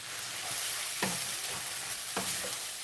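Pasta is stirred into a hot frying mixture in a pan, with a constant soft sizzle broken by a few distinct scraping strokes of the utensil.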